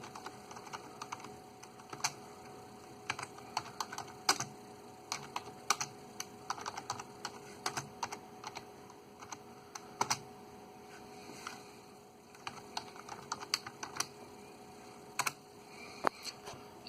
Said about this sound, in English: I'll go ahead and type in some of the acronyms here